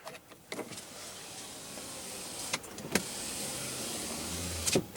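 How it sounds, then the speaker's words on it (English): Power sliding rear window on a 2015 Ram 1500 pickup with a 5.7 L Hemi V8, a steady low electric motor whir running for several seconds inside the quiet cab, with a few soft clicks near the end. "And then a power sliding window for the rear."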